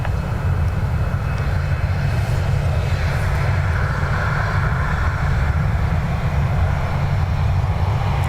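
A Ryanair jet taking off from runway 10 right at Dublin Airport, a continuous heavy engine roar with deep rumble, steady and fairly loud throughout.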